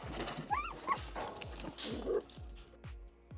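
Dogs on a farm give high whimpering yips and whines, close and moderately loud, over a regular series of soft thumping ticks.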